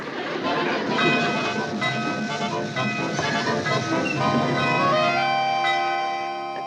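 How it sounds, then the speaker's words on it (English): A train rolls in and slows to a stop, rumbling and clattering at first, then settling into a sustained, ringing squeal of brakes near the end. "he's managing to stop the train"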